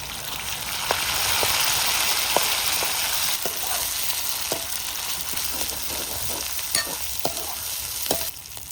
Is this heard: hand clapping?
no